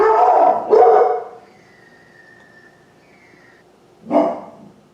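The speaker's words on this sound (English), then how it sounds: "My dog Tommy isn't happy about it either" A dog barks twice in quick succession, then once more after a pause, fairly close and loud, with a faint tone lingering in between.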